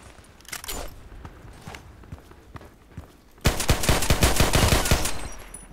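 Rapid bursts of gunfire from the Contract Wars shooter, with scattered single shots and footsteps early on, then a loud, dense automatic volley of closely spaced cracks lasting a couple of seconds.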